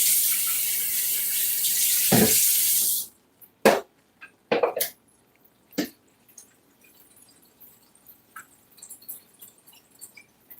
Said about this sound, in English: now I'm getting some filtered water and put in there.